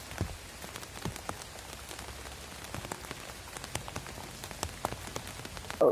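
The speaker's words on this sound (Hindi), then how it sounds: "बारिश तेज़ हो रही है।" Rain falling on surfaces nearby, a soft steady patter of scattered drops and taps at low volume, with no voices.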